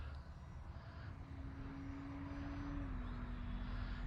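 An Arrows RC Tecnam model airplane with tricycle gear takes off: a steady electric motor whine holds a constant pitch, then drops slightly, over continuous wind-like rushing.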